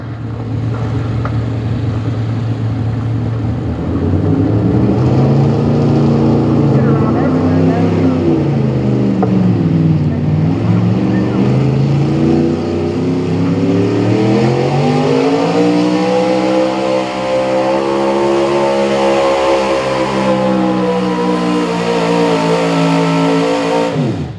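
Small block high output four-wheel drive pulling truck at a truck and tractor pull, engine roaring loudly and revving up and down in long sweeping rises, heard at a distance under a voice over a public address.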